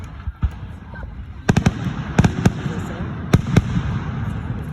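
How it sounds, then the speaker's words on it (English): At a 2025 fireworks show, a series of sharp firework explosions pop in irregular clusters, some in quick double and triple bursts, over a background of crowd noise and voices. "Just while we watch the fireworks, then we'll turn it back."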